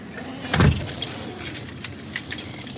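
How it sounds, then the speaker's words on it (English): Keys jingle and a car door lock clunks with a thump near the start, followed by fainter scattered clicks and rattles over a quiet background, with no voices. "Locking the door."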